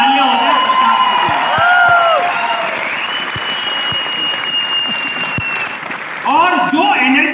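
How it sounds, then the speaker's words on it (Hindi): Loud, sustained audience applause with whoops and cheering, filling the room for about seven seconds while a voice rises over it at times. "एक बार जोरदार तालियां हो जाए प्रताप जी"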